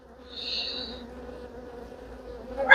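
Honey bees buzz around an open hive during an autumn inspection, a steady close insect drone holding throughout with a louder bump of handling noise at the very end.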